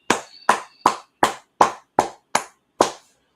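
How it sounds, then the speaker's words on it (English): Eight evenly spaced sharp claps ring out loud and close at an Israelite School of Universal Practical Knowledge gathering in Virginia, forming a steady unison rhythm with a brief ringing tone between the first beats. "clap it up"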